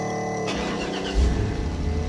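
An Isuzu NPR truck's diesel engine cranks and catches, a short starter whir followed by a low, rumbling idle settling in close by, with no one talking.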